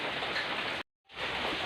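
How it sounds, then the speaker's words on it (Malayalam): Heavy rain pours steadily as a dense, loud wash of noise, broken by one brief silent gap partway through before the downpour returns. "ഇന്ന് മഴ തോർന്നിട്ടേ ഇല്ല, വെറുതെ പെയ്തുകൊണ്ടിരിക്കുക മഴ"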